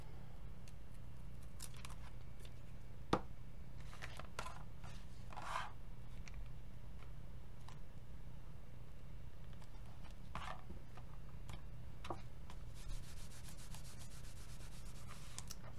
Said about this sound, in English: I'm going to glue it on and then trim it off.